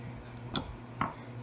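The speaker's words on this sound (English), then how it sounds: "And then take your scissors and just snip." Two quick, crisp snips of scissors cutting crochet yarn, close and fairly quiet, spaced about half a second apart over a faint background hum.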